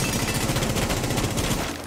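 Rapid, steady gunfire in a video game, a dense string of close, loud shots running continuously before easing off at the very end.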